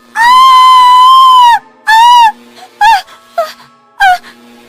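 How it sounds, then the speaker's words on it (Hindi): A woman lets out a long, loud, high-pitched scream, followed by several shorter anguished cries with brief pauses between them. "जोर से चीखती है"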